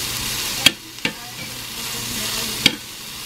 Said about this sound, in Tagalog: Niluto ko lang tong onion.